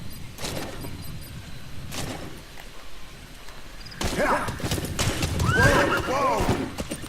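In the video game Metal Gear Solid V, a horse whinnies loudly over clip-clopping hooves, with a steady bed of game ambience behind it and a voice talking over parts of it.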